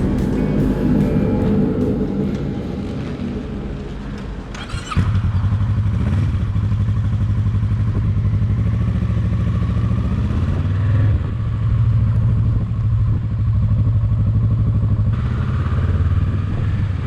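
A Kawasaki Versys 650 motorcycle engine hums steadily under way, a loud continuous mid-pitched drone with wind rush and clatter, rising after a brief dip as the rider accelerates.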